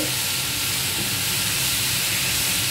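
Garlic goes into a hot pan of noodles, shrimp and leeks. A loud, steady sizzle and hiss fills the whole moment without a break.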